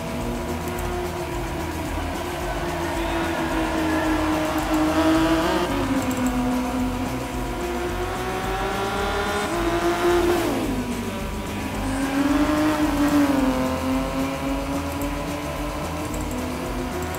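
Nissan GT-R LM Nismo race car in Gran Turismo 6, its engine droning steadily and loudly while it rises and falls in pitch through shifts and corners, with light tire squeal and no talking.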